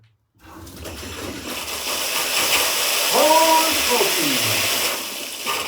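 Water gushing from a hose blowout at a log home build site, a loud steady hissing spray that starts abruptly and holds on, with a brief exclaimed voice and a whining tone in the middle.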